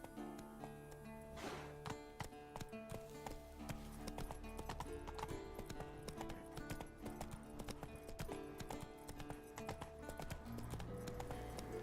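Horse galloping in The Witcher 3, a rapid, steady drumming of hooves up close, mixed with tonal game music and a short whinny near the start.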